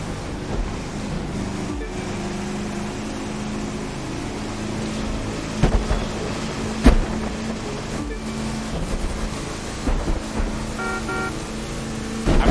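Hummer monster truck in a racing video game, its engine droning steadily for the whole stretch with a constant low rumble and occasional sharp knocks and clatters over the top.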